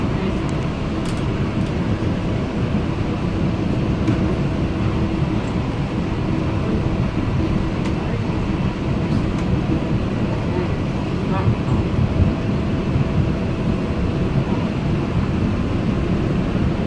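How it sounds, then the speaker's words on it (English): Tampa Airport SkyConnect people mover train running between the landside building and rental car building, a steady broadband rumble and rolling hum throughout with faint higher whines, loud and continuous. "This train is bound for the rental cars and public bus station."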